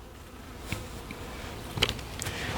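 Honey bees buzzing around an open hive during an inspection of frames holding a yellow-marked queen, eggs, brood and stores: a faint, continuous hum with a few close buzzes passing near.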